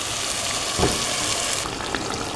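Chicken pieces go into a hot frying pan, a brief soft sizzle and hiss rising over steady kitchen noise.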